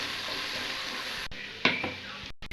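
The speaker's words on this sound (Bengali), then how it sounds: "দিয়ে ভালো করে এটাকেও পেঁয়াজের সঙ্গে ভেজে নেবো" Ginger and garlic paste fries with onions in a pan for chicken pulao, a steady close sizzle with a couple of spatula knocks and a brief drop near the end.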